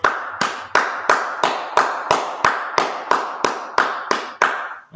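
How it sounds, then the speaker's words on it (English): About a dozen sharp claps land on a steady, even beat, loud and close, as a crowd at a religious school gathering claps together in unison with no talking. "Let's go ahead and clap it up."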